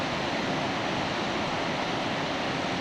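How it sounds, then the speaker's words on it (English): Waterfall near a glacier in Alaska, a broad steady rush of falling water, loud and constant from start to finish, with no speech. "Well, there's the waterfall."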